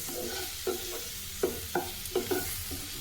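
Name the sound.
stirring capsicum with Kashmiri chilli powder in a pan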